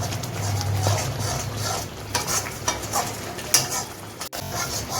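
Prawn masala for chingri malaikari sautés over a high flame, a steady sizzle under repeated scraping stirs and a sharp clink of metal near the end.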